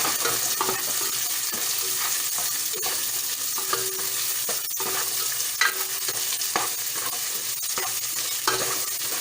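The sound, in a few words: garlic and onions frying in a pan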